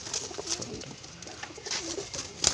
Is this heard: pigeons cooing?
yes